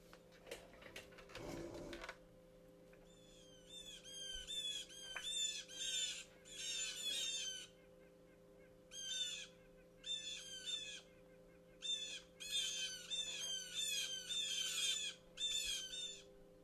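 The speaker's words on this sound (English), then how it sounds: "House wren mobbing calls." House wren mobbing calls: repeated harsh, broadband scolding chatters in rapid bursts, fairly close and clear, after a brief rustle at the start, with a faint steady hum underneath.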